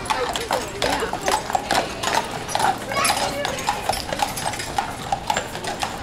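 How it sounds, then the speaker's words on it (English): A carriage horse's hooves clip-clop in a steady rhythm on a street on Mackinac Island, passing fairly close, while people talk over the sound. "Where's that damn horse and carriage?"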